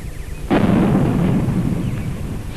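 A single deep cannon blast booms out suddenly, followed by a long rumbling roar that slowly fades, loud and close, with no voices.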